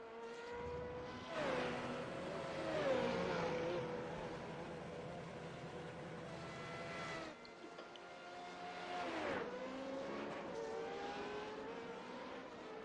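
Renault 3.5 open-wheel race cars lapping Circuit Gilles Villeneuve during qualifying, high-pitched engines rising and falling as two cars pass in turn, each howling closer then fading, with a steady background drone between passes.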